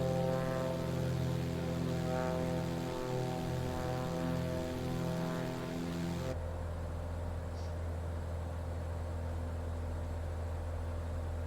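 Propeller engine of a Beechcraft Sierra BE24 in a Microsoft Flight Simulator session, a loud, steady droning hum with a throbbing harmonic tone that shifts abruptly midway to a smoother, lower cabin drone.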